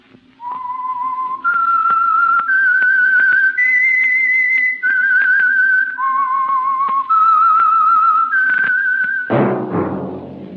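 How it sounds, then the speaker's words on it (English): A clear, loud whistled melody of sustained notes stepping up and down, ending in a sudden burst of brassy orchestral sound. "That whistle is your signal for the Signal Oil Program"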